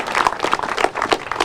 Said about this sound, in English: So hands clap for Mark Finan